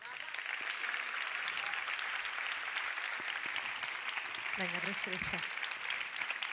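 Audience clapping for a professor at an international dubbing awards ceremony, steady applause running throughout while a presenter speaks briefly over it near the end.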